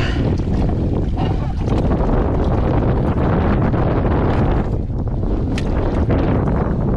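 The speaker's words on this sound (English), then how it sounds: "the wind's starting to kick it" Strong wind buffeting a microphone on a boat near Dawtaw Island, South Carolina, a loud continuous roar and rumble with gusty swells throughout.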